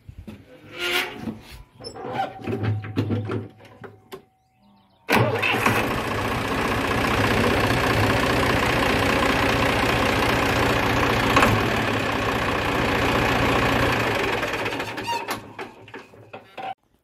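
A car engine cranks with a starter whir, then catches and settles into a loud, steady idle close by, after a new battery terminal treatment against corrosion has been installed; the idle runs for over ten seconds before fading slightly.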